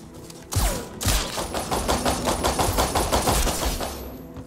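Rapid automatic gunfire from the Resident Evil Re:Verse video game, a dense fusillade of loud repeating shots that starts after a brief pause and continues steadily to the end.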